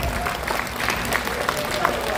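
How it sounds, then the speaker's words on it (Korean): Audience clapping at an inauguration ceremony for a new regional federation chairman in Gyeongbuk, a steady crowd applause over hall ambience, with a voice faintly audible beneath it. "두 분께 큰 박수를 부탁드리겠습니다."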